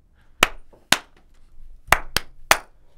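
Five sharp, loud hand claps during a sound check, close and isolated, spaced irregularly with quiet gaps between them.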